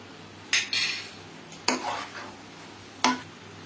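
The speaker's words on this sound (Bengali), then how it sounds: "এখন এলাচ গুঁড়োটা আমি মিশিয়ে নিয়ে নামিয়ে ফেলব।" Coconut naru mixture being stirred in a pan as cardamom powder is mixed in, with three sharp metallic scrapes of a spoon against the pan followed by brief rubbing, close and fairly clear against a quiet background.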